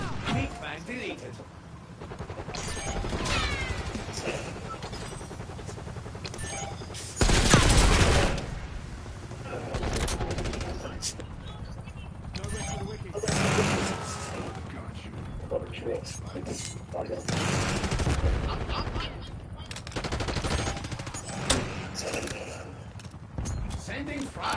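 Video game gunfire rattles on and off across a PS5 match, with bursts of shots, a loud blast partway through and crashing impacts, while game voices talk over the action.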